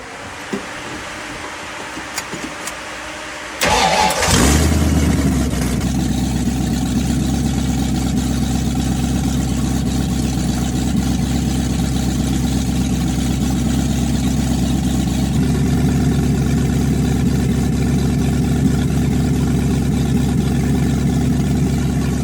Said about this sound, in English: The only thing to do is fire it up